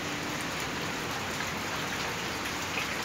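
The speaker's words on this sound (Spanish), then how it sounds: "se está lloviendo demasiado" Heavy rain pours steadily onto garden plants, including flowering bougainvillea, a dense unbroken hiss of drops close by with no voices.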